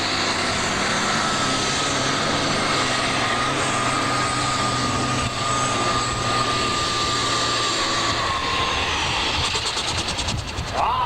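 A triple-turbocharged Allis-Chalmers D21 tractor pulling in the super stock class at the 1988 Ohio State Fair, a loud, sustained engine roar with a high turbo whine that stays strong throughout before shifting at the end.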